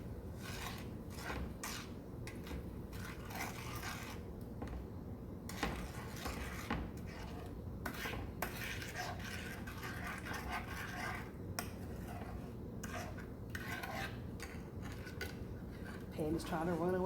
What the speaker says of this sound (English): So I'm gonna stir it.